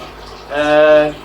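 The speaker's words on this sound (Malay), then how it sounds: "Basuh tangan yang boleh dikenakan air sehingga ke siku." Running water poured over a hand and arm up to the elbow during ablution, a short steady splashing swell that rises and fades over about a second.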